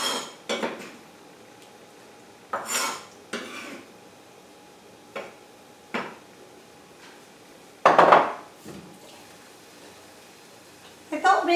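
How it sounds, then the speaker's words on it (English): Roasted peppers get moved into a bowl amid kitchen clatter, with scattered clinks and knocks of dishes, utensils and bowls sounding close and intermittent against a quiet room. "let's put our roasted peppers in a bowl out of the way"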